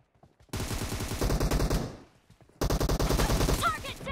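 Two bursts of rapid automatic gunfire in PUBG Mobile, loud and close, separated by a short pause.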